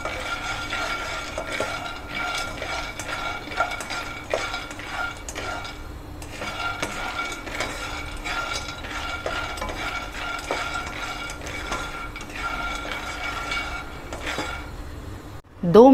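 Peanuts roasting in a pan over a medium gas flame are stirred steadily for a long stretch, making a continuous rattling scrape with regular clinks of the utensil against the pan. A faint voice is heard only briefly.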